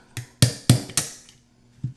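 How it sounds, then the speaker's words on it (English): A small hammer strikes a punch to drive a pin out of a Wilson Combat P365 grip module. Four sharp metallic taps come in a quick even rhythm, close and loud, then pause before two lighter taps. "Got one of our nice little hammers here. We'll just drive this out from left to right."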